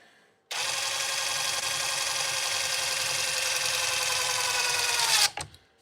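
A power drill drives a screw while being pressed down hard, giving a loud, steady motor whine that starts abruptly, holds for about five seconds, then winds down and stops, with no voices.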